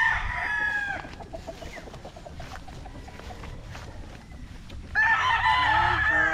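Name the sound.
stags (young gamecocks) crowing and clucking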